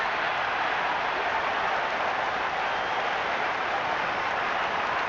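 An excited stadium crowd at a cricket match in the Cricket 26 video game makes a dense, steady roar of cheering that holds at an even, loud level throughout, without commentary.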